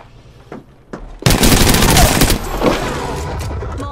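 Gunfire in the Apex Legends video game: after a few quiet taps, a loud sustained burst of rapid automatic fire erupts and continues close up, easing slightly toward the end.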